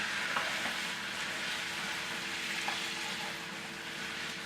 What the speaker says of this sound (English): So we're just going to drop this into the warm pan.